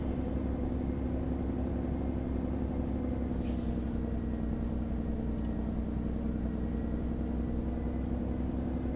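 In American Truck Simulator, a quick hiss of truck air brakes cuts through the steady low drone of a heavy truck engine, which rumbles on continuously.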